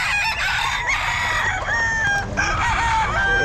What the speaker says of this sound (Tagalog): Ayan mga manok niya mga sir.